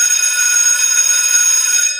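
A bell sound effect played from an iPhone soundboard app, a steady ringing tone with dense high harmonics sustained for about two seconds, then fading quickly at the end.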